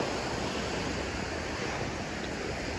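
Ocean surf washes against the tide pools on an Orange County shore in a steady, broad hiss, with wind noise and no voices.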